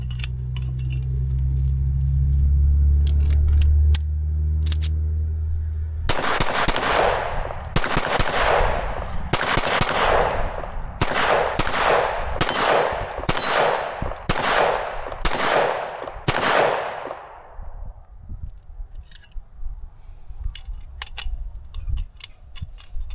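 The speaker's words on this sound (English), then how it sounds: "So let's shoot the last mag through it" A Sig Sauer P365 AXG Legion pistol is emptied through a full magazine at a range: about a dozen loud, sharp shots in a steady rhythm, after a low rumble at the start.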